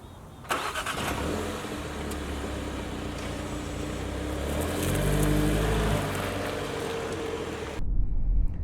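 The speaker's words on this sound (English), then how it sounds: "Time for a drive in the BMW X2" A 2024 BMW X2 SUV engine starts up and settles into a steady mid-pitched hum, rising slightly as it pulls away, then cuts off abruptly near the end.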